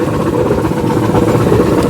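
A farm tractor engine runs steadily on a forest track, a loud, close, low rumbling drone with a rough clattering texture and no voices over it.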